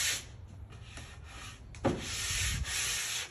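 Close strokes of a sanding block with 220 grit sandpaper across a lacquered surface, a steady abrasive rasp with a few brief knocks and shifting strokes toward the end.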